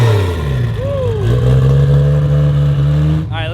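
A 1200 hp turbocharged 4.0-litre Barra inline-6 in a Foxbody Mustang, idling loud and close with a rough, steady drone, a quick rev blip near the start and a brief turbo whoosh at the end.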